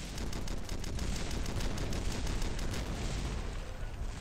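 Mortar artillery strike in the video game War Trigger 2, firing and exploding: a continuous dense barrage of gunfire-like blasts and booms, loud and unbroken with no talking.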